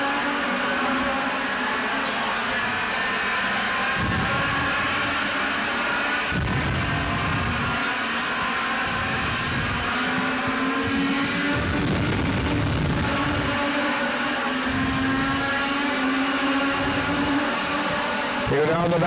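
Legends race cars speed down the backstretch of an oval track, a continuous loud engine roar with pulsing rises and falls as cars pass, under a race commentator's voice.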